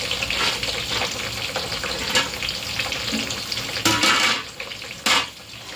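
Steady sizzling of capsicum and other vegetables frying in a pan with occasional clanks and scrapes of a utensil stirring, no voices.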